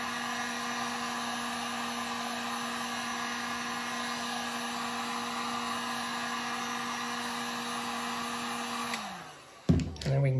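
A heat tool blowing hot air to soften a section of acrylic rod for scale modelling, a steady loud whirring hum with a constant whine that winds down near the end, followed by brief handling noise.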